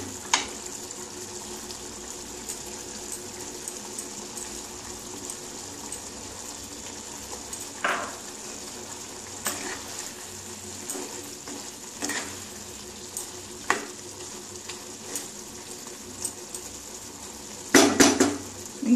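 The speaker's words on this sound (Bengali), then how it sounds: "গরম মশলা গুঁড়ো, ভালো করে নাড়িয়ে এবার ধনে পাতাটা দিয়ে আমি নামিয়ে দেবো।" A spoon scrapes and stirs a sizzling fish roe fritter curry with garam masala in a pan, a steady simmering hiss with occasional louder clinks against the metal, near and with no talking.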